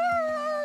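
In The Last of Us Part II, a character's voice imitates a wolf howl: a single sustained, steady wailing tone with rich overtones, loud and close, holding for under a second with no other sounds.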